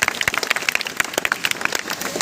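Scattered clapping from a small school audience for a child, a quick patter of hand claps lasting a couple of seconds at moderate loudness, with faint voices underneath.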